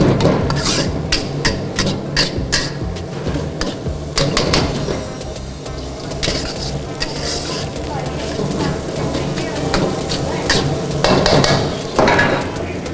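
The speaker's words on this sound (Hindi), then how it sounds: "इसमें चॉप कैबेज एंड इसको हल्का सा ज़रा स्टेर फ्राई कर ले" Chopped cabbage stir-fried for egg fried rice, a loud, steady scraping and rasping of a utensil against the pan with a sizzling bed underneath, continuous and close throughout.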